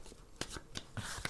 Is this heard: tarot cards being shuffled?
yes